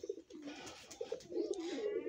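A mixed flock of pigeons, including Nafsa, Malbai Punjab and Giribaz breeds, coos in overlapping throaty phrases, close and moderately loud, with short pauses between bursts.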